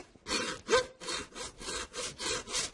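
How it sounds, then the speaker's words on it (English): A saw cutting down through pork vertebrae and bone during carcass breaking, about eight regular rasping strokes close up, rhythmic push-pull grinding with no speech. "we're going to go ahead and cut down through the vertebrae and through the bones underneath"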